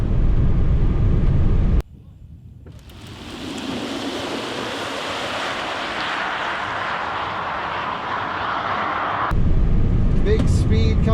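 A Tesla Model 3 Dual Motor accelerates at wide open throttle on a race track, a rising whine and rushing wind roar building steadily from a sudden, quieter start over several seconds, with no clear talk over it.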